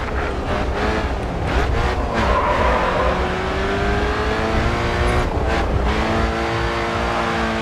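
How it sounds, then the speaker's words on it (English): A race car in the video game GRID 2 roars continuously and loudly up close, engine pitch climbing and dropping through gear changes, with brief tire squeals and skids along the way and no talking. "This car drives, handles, accelerates much quicker than the cars that I've gotten used to."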